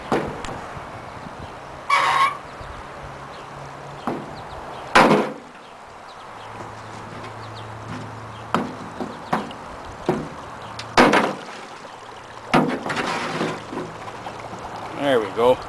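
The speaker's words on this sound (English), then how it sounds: "That's the sound of the gas basically coming out from behind the hammer." Dry ice vaporizing under a metal hammer: sharp metallic squeals and hissing bursts of escaping gas come and go irregularly over a low hum, with a few loud clanks in between.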